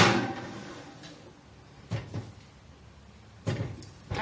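An oven door shutting after an oatmeal cake goes in, heard as a couple of soft knocks and a clearer thump near the end, with quiet kitchen background in between.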